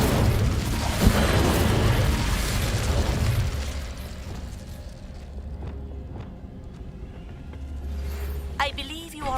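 Incendio fire spell cast in the game Hogwarts Legacy, a loud roaring blast of flame lasting several seconds that fades into quieter crackling, with a few sharp pops and a brief whooshing tail near the end.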